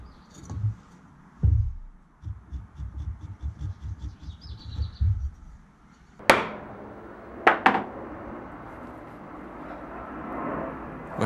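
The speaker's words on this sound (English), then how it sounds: "When chiseling out the mortises" Chisel work cutting mortises into a wooden beam, with a run of soft, rapid scraping and paring taps near the start, then a few sharp, loud knocks a little later over a steady background hiss.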